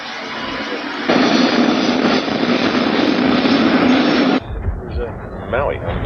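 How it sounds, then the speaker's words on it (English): Helicopter airborne over a film set on Maui, a loud steady broadband roar that swells and holds for several seconds, then cuts away to quieter sound with a voice speaking. "Now the helicopter is in the air."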